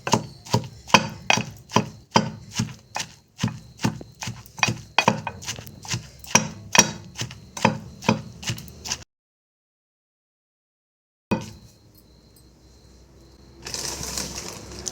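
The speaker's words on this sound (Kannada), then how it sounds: "ಸ್ವಲ್ಪ ಕುಟ್ಟಿ ತೆಗೆದುಬಿಡೋದು. ಮಿಕ್ಸಿ ಮಾಡೋದು ಬೇಡ" Okra chutney is pounded by hand with a pestle: about seventeen loud, evenly spaced thuds over nine seconds. A pause of silence follows, then faint clatter and a brief rustling burst.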